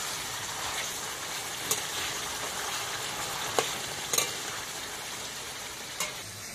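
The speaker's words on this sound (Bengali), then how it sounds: "চিকেনটা হালকা ভেজে নিয়েছি" Chicken pieces frying lightly in a pan for a lemon chicken dish, giving a steady close sizzle with a few sharp clicks of stirring, no voices.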